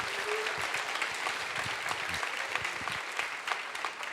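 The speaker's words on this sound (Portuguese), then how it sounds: "Você pode aplaudir, Senhor?" A church congregation applauding during a sermon, dense even clapping sustained across four seconds with a few sharper individual claps standing out and a faint voice underneath.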